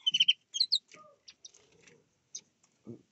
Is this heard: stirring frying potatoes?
no